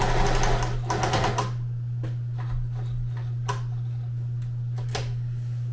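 A sewing machine stitches fabric for a market checkout-station project, opening with a quick, dense run of stitching, then a few scattered clicks and taps over a steady low motor hum.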